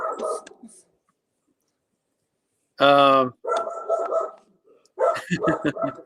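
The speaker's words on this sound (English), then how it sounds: "Sorry, I've got a dog in the background." Dog barking in the background of a live call, a short sharp bark standing alone between spells of conversation as people talk before and after it.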